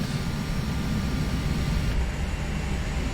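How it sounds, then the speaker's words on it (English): A Phenom 300 business jet's engines in the Prepar3d flight simulator roar as a steady, loud broadband rumble that thins slightly near the end as they begin spooling down after shutdown. "let's shut down the engine"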